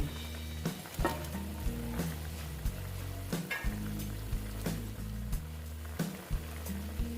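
Small mourala fish drop into a pan of pumpkin and eggplant, raising a bubbling sizzle with repeated spoon and pan knocks over a low rumbling simmer, close by and without speech.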